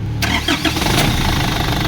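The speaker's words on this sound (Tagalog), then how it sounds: "itry nating pandarin ang makina at observe po tayo. Okay, engine start." An Isuzu D-Max with a 4HJ1 diesel engine that has a low power problem cranks briefly and fires, settling into a loud, close, rough idle with no talking.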